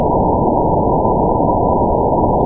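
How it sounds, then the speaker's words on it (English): Low-pass noise containing everything from the lowest frequencies up to 1 kHz, a dull, rumbling hiss that holds steady and loud for about two and a half seconds, then cuts off, with no speech. "which is the noise between 0 Hertz and 1 kHz"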